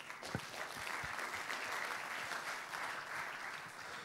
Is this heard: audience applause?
yes